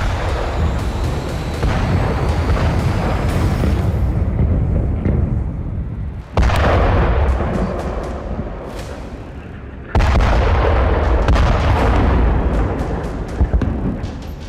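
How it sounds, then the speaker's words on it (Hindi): Explosions from Israeli airstrikes on Khan Younis in Gaza at night, heavy booming blasts with sudden onsets followed by long rolling rumble, loud and reverberant with sharp crackles in between. "रात के अंधेरे में इजराइल के खान यूनिस इलाके में इतने बम बरसाए"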